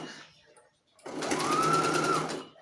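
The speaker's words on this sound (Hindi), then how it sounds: "साइड से चारों तरफ से सिलाई लगा लेंगे हम" A sewing machine stitches along the folded edge of a baby frock, running in one steady whirring burst of about a second and a half after a quieter lead-in.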